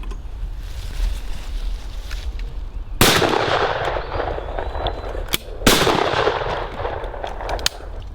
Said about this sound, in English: We're going to start by shooting a plastic wad Sovereign Parkour, only the finest ammunition